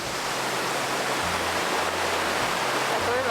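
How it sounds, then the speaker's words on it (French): A river flows strongly past a rural plot of land, a loud steady broadband rush close by, with a faint voice briefly audible underneath. "regarde la rivière quoi"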